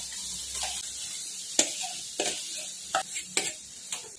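Potatoes stirred into fried spice paste in a pan for Kutchi dabeli filling: a soft background sizzle broken by several distinct spoon scrapes and clinks, close and fairly quiet, with no talking.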